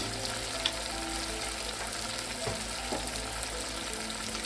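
Ground spices (turmeric and red chili powder) frying in oil with a splash of water, giving a steady, soft continuous sizzle with faint stirring clicks, close and quiet.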